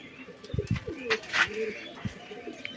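A few pigeons and pigeon chicks make short cooing and chirping sounds close by, brief calls scattered over a quiet background.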